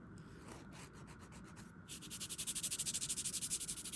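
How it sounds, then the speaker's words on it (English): A nail file rasps back and forth across a press-on nail, first in a few short strokes and then in a quick steady series of close scraping passes, quiet and alone. "Little divot. Just file that off."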